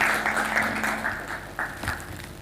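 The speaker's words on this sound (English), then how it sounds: "Let's give a clap to Mr." Brief round of audience applause for a lecturer at an optics and lasers summer school, a modest cluster of clapping in a hall that fades quickly.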